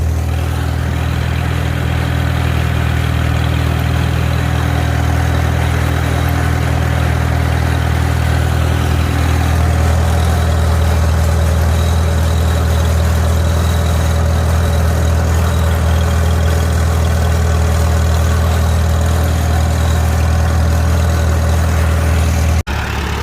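A Farmall A tractor engine runs steadily at idle for the whole stretch, a close, loud, even low rumble with no talk and a slight change in tone midway.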